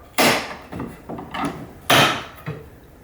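A timber pocket door panel, sealed in with paint, is pried out of a sliding cavity door: a few sharp wooden cracks and knocks, close by, with two louder snaps among smaller creaks.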